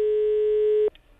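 A steady telephone line tone hums loud and unbroken for close to a second during a prank phone call, then cuts off abruptly, leaving faint background hiss.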